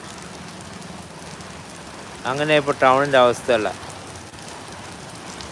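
Rain falls on a town road in a steady, hissing patter throughout, and someone speaks briefly over it in the middle.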